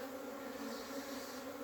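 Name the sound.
honey bees (dark bee) flying out of hive, first flight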